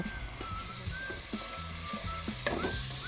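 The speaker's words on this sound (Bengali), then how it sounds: "হাফ টিস্পুন হলুদ এক টিস্পুন গুঁড়ো লঙ্কা ও হাফ টিস্পুন ধনে গুঁড়ো দেব" Half a teaspoon of turmeric, a teaspoon of chili powder and half a teaspoon of coriander powder sizzle in frying masala for spinach chicken, with a steady hiss and soft stirring scrapes close by, no talking.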